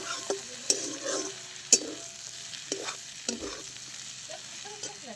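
A vegetable bhaji being stirred and mixed in a pan, with spoon scrapes and knocks against the metal over a steady low sizzle of frying, close and fairly quiet, no talking.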